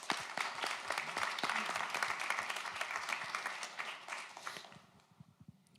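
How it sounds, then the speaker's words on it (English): An audience at a year-in-review talk gives a full round of applause, dense and steady at first, then thinning to a few scattered claps before it fades out. "we were a round of applause for Claudio as well."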